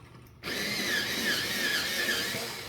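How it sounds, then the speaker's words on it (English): Colored pencils being sharpened in a sharpener make a steady, close grinding whir with a squealing edge that starts abruptly and runs continuously to the end. "Have to sharpen two of them."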